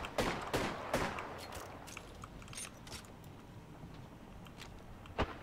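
Bursts of gunfire in a multiplayer shooter video game crackle in rapid volleys, loudest early on and then thinning into scattered distant shots and mechanical clatter, with one sharp report near the end.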